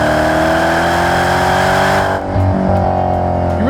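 Dodge Challenger SRT 392 with a 6.4-liter Hemi V8 accelerating hard, its loud, rising engine roar up close, briefly dipping at a gear change before climbing again.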